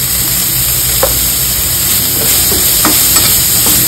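Loud, steady sizzling of hot tempering oil in a pan with coriander and ground soybean filling for paratha, with a few faint stirring taps over the constant frying hiss.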